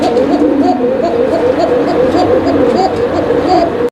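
Pigeons cooing steadily in a pet bird shop, a dense overlapping chorus of low burbling coos from many birds close by, continuous throughout with a faint voice in the background.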